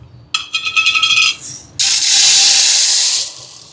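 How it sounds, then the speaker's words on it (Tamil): Chana dal is washed in water: a short run of swishing, rattling grains gives way to a louder steady rush of pouring or running water that then fades. "இப்போ பாருங்க கடலை பருப்பை நல்லா கழுவி எடுத்தாச்சு"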